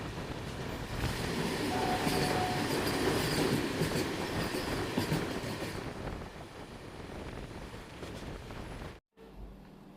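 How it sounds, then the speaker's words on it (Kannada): The Vande Bharat Express from Belagavi to KSR Bengaluru passes on the crossing line at Alnavar junction, heard from a standing train as a loud rumbling clatter that fades, then cuts off abruptly. "ಬೆಳಗಾವಿಯಿಂದ KSR ಬೆಂಗಳೂರಿಗೆ ಹೋಗೋ ವಂದೇ ಭಾರತ್ ಎಕ್ಸ್ಪ್ರೆಸ್ಸು ಕ್ರಾಸಿಂಗ್ ಆಗ್ತಿದೆ"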